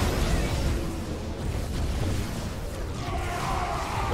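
Disruptor shots detonating in a StarCraft 2 match, a continuous rumbling roar of explosions and bursts filling the clip at steady loudness, with a brighter swelling layer near the end.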